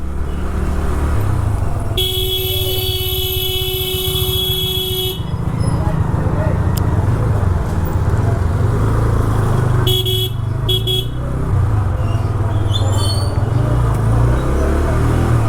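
A Bajaj CNG plus petrol motorcycle rides along a highway, its engine and wind roar steady and loud throughout, with passing vehicle horns honking twice and speech heard over the road noise.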